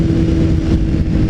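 A liter-class motorcycle engine roars loud and close, a dense steady drone with a slight rise in pitch as it climbs through the gears.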